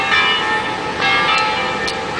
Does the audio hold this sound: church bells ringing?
yes